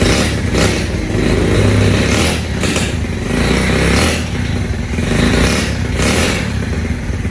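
An inexpensive motorcycle engine idles loudly nearby with a rough, clattering putter, its revs swelling and easing in a slow repeating rhythm.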